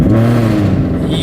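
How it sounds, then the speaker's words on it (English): A Ford Mustang with a loud exhaust rumbles through a cold start, a steady, heavy low drone that stays close and loud for the whole moment. "Yup, it's a loud cold start."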